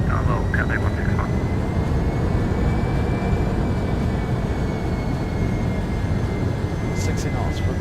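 An airliner's thrust reversers deploying during the landing roll in the X-Plane 12 flight simulator, heard as a loud, steady broadband engine roar that fills the whole stretch without letting up.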